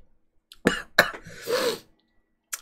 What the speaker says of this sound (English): Oh, God, coughing hurts.